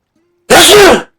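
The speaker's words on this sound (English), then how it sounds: "Ooh, I was just about to sneeze" A single sharp, loud sneeze in the video game Final Fantasy XVI, bursting out of near silence and quickly fading.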